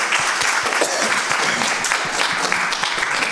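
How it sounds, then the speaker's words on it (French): An audience of residents at a seniors' residence claps warmly for the show's production crew, dense steady applause filling the room, close and sustained throughout. "J'aimerais qu'on les applaudisse."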